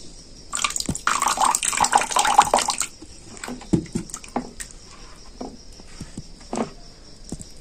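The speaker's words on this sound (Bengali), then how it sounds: "তার জন্য আমি আর একটু জল দিয়ে দিচ্ছি।" Water pours in a short, splashy stream into radish pitha batter for about two seconds, close and bubbly, followed by wet stirring and gentle taps against the bowl.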